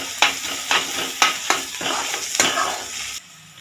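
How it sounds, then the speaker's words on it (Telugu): Green chillies and ginger garlic paste fry in hot oil for an Andhra-style nethili fish curry, a steady sizzle broken by about six sharp stirring scrapes before it quietens at the end. "ఇప్పుడు ఈ 3 పదార్థాలు వేసుకొని పచ్చివాసన పోయినంత వరకు కూడా మనం వేగించుకోవాలి."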